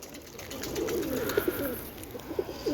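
Tumbler pigeons coo nearby in soft, low, repeated throaty rolls over a faint outdoor background.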